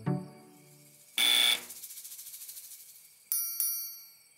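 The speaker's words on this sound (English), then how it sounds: "You can try that buzzer thing if you want, Garfield, but it won't do any good." A cartoon buzzer effect: a short harsh buzz bursts out, followed by a pulsing, fading electronic tremor, then two sharp ringing hits near the end, with no talking.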